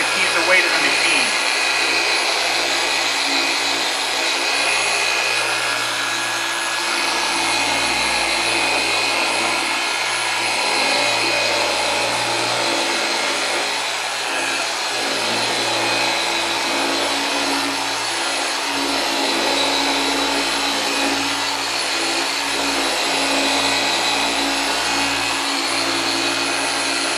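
A Rupes UHS polishing machine runs steadily on car paint, held level with barely any pressure, giving a continuous loud whirring hum with a broad hiss that holds even throughout.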